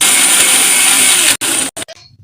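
A loud, steady whir of a blender blending juice with ice cubes runs continuously, then cuts off abruptly with a few short bursts before stopping.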